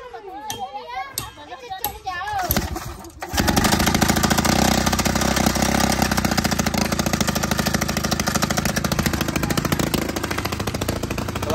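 Children's voices chatter briefly before a rock drill starts up on a mountaintop, hammering hard stone in a loud, rapid, continuous pounding that dominates for the rest of the time.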